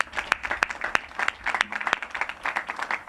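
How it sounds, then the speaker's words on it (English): A crowd applauds at an outdoor community National Night Out event, a dense patter of many hands clapping steadily for a few seconds, with a murmur of voices underneath. "let's give her a round of applause"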